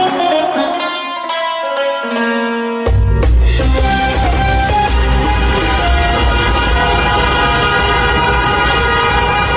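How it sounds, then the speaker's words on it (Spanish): Car horns blare continuously in the streets of Doha after Morocco's football match win. Many overlapping toots and sustained honks form a dense, loud chorus that swells after a brief quieter start. "Las bocinas de los coches sonaron durante horas después del partido en que Marruecos logró una conquista más para África"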